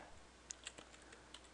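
Computer keyboard typing as Java code is entered, a few faint, scattered key clicks at an uneven pace in a quiet room.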